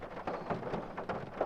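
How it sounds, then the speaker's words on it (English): Heavy rain pours steadily outdoors near apartment buildings, a dense, continuous hiss with no breaks, close and fairly loud for the whole moment. "it's still raining like crazy"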